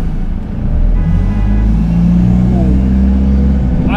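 A bus cruising along the road gives a steady, loud low engine drone and rumble heard from on board, with faint voices mixed in.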